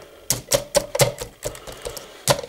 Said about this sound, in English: I like to press the keys with my nose and with my hand-like fist here.